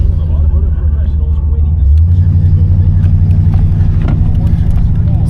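A 1984 Oldsmobile 98 Regency drives along, its engine a steady low rumble that deepens and strengthens partway through and holds as a continuous drone, with a voice speaking faintly over it.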